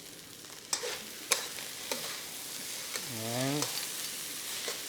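A spatula stirs fried rice with corned beef and green pepper in a pan, giving a few sharp scraping clicks over a soft sizzle, and a voice speaks briefly midway.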